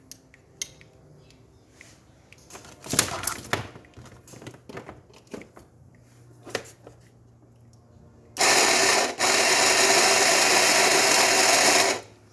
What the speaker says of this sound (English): And then we're going to just test this grinder quick.